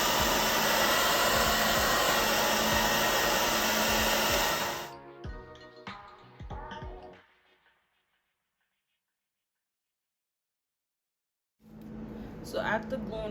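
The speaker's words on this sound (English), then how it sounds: "you want to take your blow dryer" A blow dryer on full heat roars steadily at close range, then cuts off; brief handling noises follow, silence, then it starts up again.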